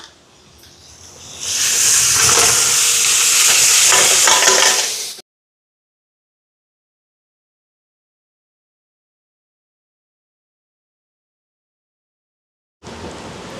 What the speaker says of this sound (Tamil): இதையும் ஒருக்கா கலந்து விடுவோம் சிக்கனை சேர்ப்போம்